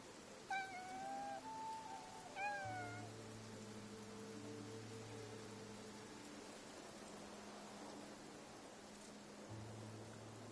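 A cat meows a few times near the start, short and fairly faint, then quiet ambient hiss continues with no further calls.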